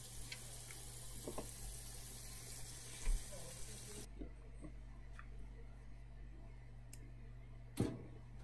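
A GE stacked washer-dryer laundry center fills with water: a steady rushing hiss for the first few seconds cuts off abruptly, leaving a low hum with a few faint clicks and a brief thump.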